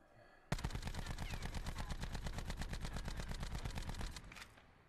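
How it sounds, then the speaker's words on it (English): The Rampart 17 rifle in Call of Duty: Black Ops 4 fires one sustained full-auto burst, loud and steady for about three and a half seconds, then stops abruptly. "we are going to fire without touching the right stick whatsoever to show you guys the pattern of the recoil"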